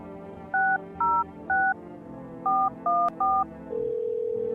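Six clear touch-tone beeps from a phone being dialed inside the video game No I'm Not A Human, spaced in two quick groups of three, followed by a steady ringing tone over a low background hum.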